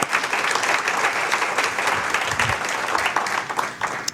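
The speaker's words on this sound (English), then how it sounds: "Let's give them a hearty round of applause." Conference audience at a STEM education summit breaking into hearty applause, a dense, loud wash of many hands clapping together for the full stretch, with a slight dip near the end.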